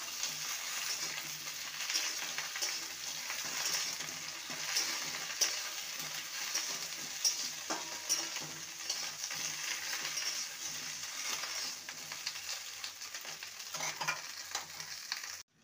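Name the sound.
okra frying with potatoes in a wok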